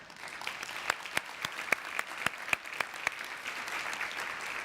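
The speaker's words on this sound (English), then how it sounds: "can we give them a quick round of applause?" Audience members at an annual education convening clap for committee members standing up, a moderately loud round of scattered handclaps with sharper individual claps standing out and a steady wash of applause underneath.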